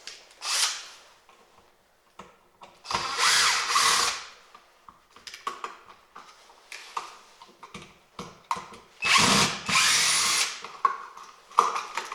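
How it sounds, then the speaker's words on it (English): A power drill whirs in several loud bursts while a box is removed during installation of plugs and switches for LED shop lights, separated by quieter clicks and handling noises. "power tools."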